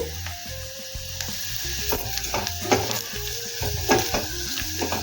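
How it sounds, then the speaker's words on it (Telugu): Gentle sizzling of a spice mixture frying on a low flame in a pan, with repeated scraping stirs and light clinks, close and continuous at a moderate level, with no voices. "వేసేసుకొని లో ఫ్లేమ్లో పెట్టేసుకొని బాగా ఫ్రై చేసుకున్నాం"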